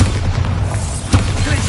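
A Bombarda blasting spell goes off in Hogwarts Legacy as a loud, deep, rumbling boom that fills the short clip, with a second thudding impact near the end.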